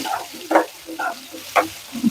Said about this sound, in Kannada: ಮಿಕ್ಸ್ ಮಾಡ್ಕೊಳ್ಳೋಣ.